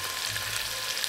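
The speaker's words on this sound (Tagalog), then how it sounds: "Niluluto ko munggo." Mung beans cooking in a pan, giving a brief, steady hiss of frying that is close and even, with no voices.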